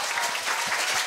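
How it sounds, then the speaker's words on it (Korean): Audience applause at a Korea University speaking festival for middle school students, a short burst of steady clapping from a hall full of people. "다들 큰 박수 주세요"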